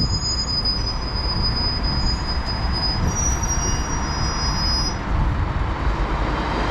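A train rolls along the quiet Waterford–Limerick Junction line in Ireland, making a steady loud rumble of wheels on rails, with thin high metallic wheel squeals coming and going throughout and no talking.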